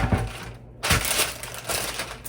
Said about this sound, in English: we have lined our pan with parchment paper